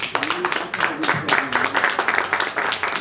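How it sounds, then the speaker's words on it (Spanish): An audience applauds a guest speaker at a Spanish-language conference, the clapping steady and fairly close, with a voice faintly audible through it. "Lo recibimos con un fuerte aplauso."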